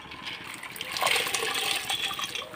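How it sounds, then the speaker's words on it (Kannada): Washed green gram is tipped into a pot of hot water, giving a brief splashing pour that swells in the middle and then settles. It sounds close by, with no speech over it. "ತೊಳೆದಿಟ್ಟಂಥ ಹೆಸರನ್ನು ಇದಕ್ಕೆ ಹಾಕ್ಕೊಂಡೆ"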